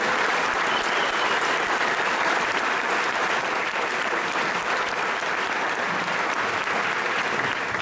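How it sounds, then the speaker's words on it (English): Sustained applause from a graduation audience at a Fort Benning military ceremony, honoring the MCU Band: dense, steady clapping that holds loud and even throughout with no speech. "join me, if you would, in a round of applause for the MCU Band"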